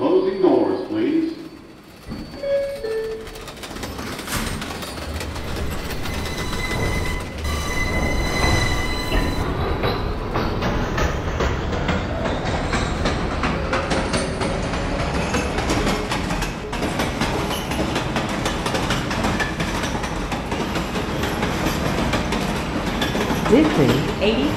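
A New York City 6 local subway train runs toward Pelham Bay Park. Its wheels rumble and clatter loudly, with a rising whine and occasional squeals. Announcements and speech come through near the start, and the train roars steadily throughout.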